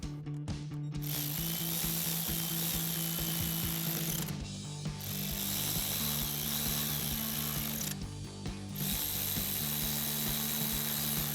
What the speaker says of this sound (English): we go ahead and tighten them down with our 7mm socket